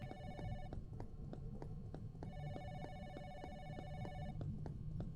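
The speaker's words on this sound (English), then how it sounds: "I'm too small to answer the phone!" Telephone ringing in a video game, a repeated electronic bell-like ring in regular bursts, faint and steady over a low background hum, with no talking.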